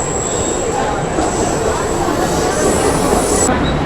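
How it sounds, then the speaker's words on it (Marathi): A new air-conditioned suburban train pulls into Grant Road station with a loud, continuous rolling rumble and a thin, high, sustained wheel whine over it, all heard from the platform. "अशी नवीन ट्रेन निघाली आहे, ती आली आहे"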